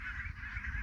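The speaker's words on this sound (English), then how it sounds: "We have the gray goose, and well, they overstayed their welcome." Grey geese honk in a steady, continuous chorus during a Dutch winter, a dense overlapping mass of calls at moderate distance with no talk.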